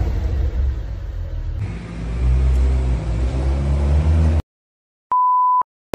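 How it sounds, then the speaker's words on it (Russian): A Porsche drives along with a steady, loud engine rumble and road noise that swells slightly midway, then cuts out abruptly, followed by a sustained electronic beep. "Еду на своей Порше в салон красоты."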